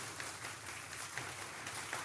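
Canned applause effect played during a talk radio broadcast, a steady wash of many hands clapping at moderate level throughout, with no voices over it.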